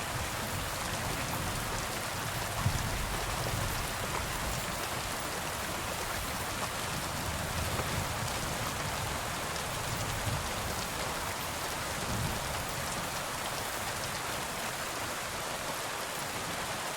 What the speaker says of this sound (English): When I hear and see the rain in this game